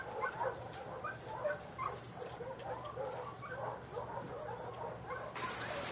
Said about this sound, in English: Hey, you crazy dog.